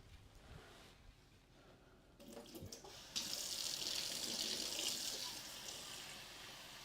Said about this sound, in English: You heard me using the sink, you came running over?